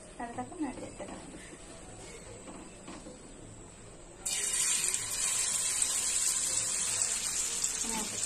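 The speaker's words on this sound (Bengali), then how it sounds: "তেল গরম হয়ে গেছে, আমি একটা একটা করে ছেড়ে দিচ্ছি" Onion fritters (piyaji) dropped one by one into hot oil, a loud steady sizzle that bursts up and holds, after a quieter stretch with a voice talking.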